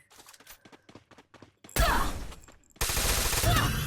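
Gunfire in the mobile battle royale game Free Fire: two sudden loud, dense bursts of shots, the second sustained to the end, following a stretch of quieter scattered game sounds.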